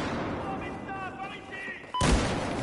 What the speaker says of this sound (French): le fusil à pompe!